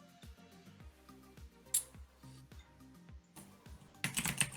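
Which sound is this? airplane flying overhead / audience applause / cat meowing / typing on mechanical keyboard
typing on mechanical keyboard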